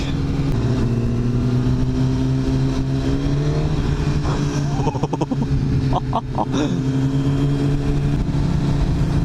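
A Kawasaki ZX-10R liter-bike motorcycle engine while riding, a loud steady drone with sustained low engine tones and wind rush, the pitch shifting slightly midway, heard up close throughout.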